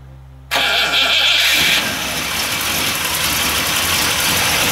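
A warm Triumph TR8 engine cranks briefly and catches about half a second in, then a loud, steady idle carries on close by to the end with no talk.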